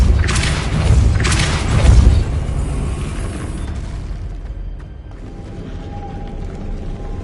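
A Depulso force spell cast in Hogwarts Legacy lands as a loud, deep booming thud with a brief burst, followed by rumbling mechanical game ambience that fades into a quieter steady bed.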